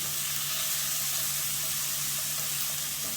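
Onions frying over medium heat in a pan while zoodles are being made, giving off a continuous, even hiss of sizzling that stays loud and steady, with no talking.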